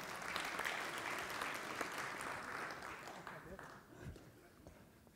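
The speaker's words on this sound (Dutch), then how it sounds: "Jan Westert, applaus." Audience applause at a closing debate of provincial party leaders in Overijssel, dense clapping across the room that stays steady, then gradually thins and fades toward the end.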